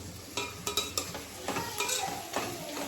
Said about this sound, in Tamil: தக்காளி போட்டு நல்லா வதக்கிட்டு கல்லுப்பு சேர்த்துக்கலாம்